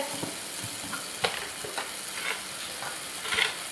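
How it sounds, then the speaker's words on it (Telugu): Gongura paste with raw prawns stirred in a pan, gentle frying hiss under repeated spoon scrapes and light clinks, close and steady with no voices. "ఇదైతే కలుపుకుందాం"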